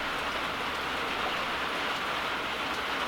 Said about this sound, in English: I guess you can tell by the sound that it started raining again